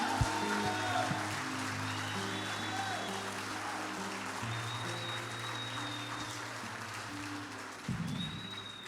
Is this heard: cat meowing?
no